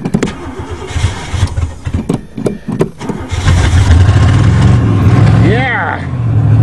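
An old, rusty Oldsmobile 88 that had sat for three years cranks with uneven, sputtering turns, then catches and settles into a loud, rough idle close by, with a person speaking over it.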